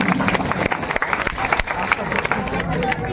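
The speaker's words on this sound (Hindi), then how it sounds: "और बच्चों की हौसला से जोरदार तालियों से स्वागत कीजिए।" An audience at a district-level competition exam result ceremony claps for a student named as ranked first. The loud, dense applause comes through with a few sharp individual claps and some crowd murmur mixed in.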